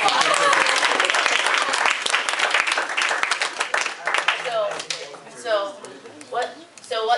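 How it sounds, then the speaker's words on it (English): Audience applause fills the room right after a mental math performance, dense clapping that thins out over several seconds while people start talking and cheering underneath. "Give her a round of applause."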